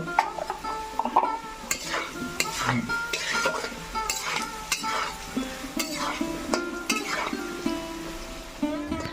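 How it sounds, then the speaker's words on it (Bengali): Potato pieces with turmeric and salt frying in a pan, a spatula scraping and stirring in repeated strokes over a steady sizzle, close and fairly loud. "আলুগুলো লাল লাল করে ভাজা হয়ে গেছে"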